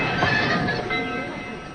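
An old train, the Cannonball, rumbling along steadily with a dense mechanical clatter and wheezing hiss, close and fairly loud, no voices.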